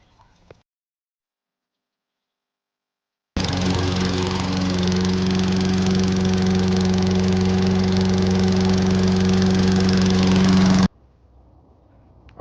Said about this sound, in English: finished all of the mowing